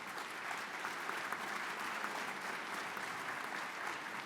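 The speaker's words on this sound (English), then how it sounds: "A round of applause for our panelists." Conference audience applauding a panel of speakers at a water users' annual meeting, sustained, even clapping from a sizable room that carries on without a break and with no talk over it.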